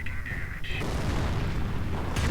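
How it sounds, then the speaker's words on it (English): Heavy booms of Nebelwerfer rocket artillery rumble through a World War II strategy video game, with a deep rolling blast that fills most of the short stretch. A whistling tone comes first, and a sharper crack lands near the end. "Nebelwerfer fire trying to do something against the pack, doesn't do much"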